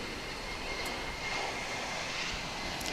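A steady, distant engine roar from an Airbus A330 airliner in from Frankfurt at DFW International Airport holds at an even level throughout, a broad airy rumble with no voices over it.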